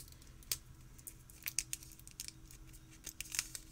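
Scissors snipping through plastic wrap on a boxed Hedgewitch Botanical Oracle card deck, a series of short, crisp cuts and crinkles close by, with scattered sharp snips over a quiet background.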